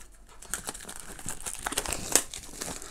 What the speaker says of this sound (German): Erstmal die Folie abmachen.